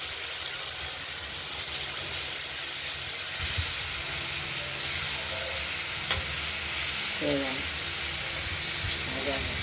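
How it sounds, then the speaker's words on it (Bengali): Pieces of catla fish rubbed with salt and turmeric fry in oil in a wok, giving a steady, close, loud hissing sizzle that runs throughout, with a few brief clatters and faint background sounds. "মাছগুলোকে নুন হলুদ মাখিয়ে কড়াইতে দিয়ে দিয়েছি একটু হালকা হলুদ করে ভেজে নেব"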